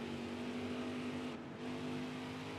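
A steady, high-revving NASCAR race car engine in a video game, racing at New Hampshire, holds a constant whine, dipping briefly before resuming.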